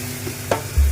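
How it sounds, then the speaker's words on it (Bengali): Marinated chicken dropped into a hot pan for chicken kosha, a loud sizzle erupting as the pieces hit the oil, with a stir clack just before, no voices. "এইবার আমি দিয়ে দেবো চিকেন ম্যারিনেট করা চিকেনটা।"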